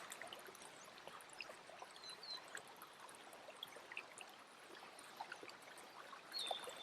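A stream flows steadily at low volume, a soft continuous rush of water with faint trickles and gurgles and no voices.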